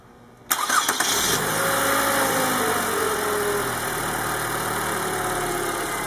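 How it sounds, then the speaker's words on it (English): A car engine cranks briefly and then catches as an Arcabat SL1 jump starter boosts the battery, then settles into a steady, even idle with a faint high whine. "Right now we'll crank it again and we'll show you it jump starting."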